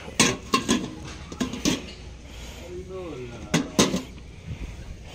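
Several sharp ceramic clinks and knocks of a plate being handled, in a couple of quick clusters, with a voice speaking softly between them.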